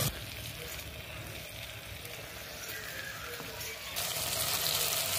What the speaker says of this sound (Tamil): இப்போ ஒரு ரெண்டு மூணு நிமிஷம் வந்து எண்ணெயிலே வந்து நல்லா வந்து காய் வதங்கட்டும்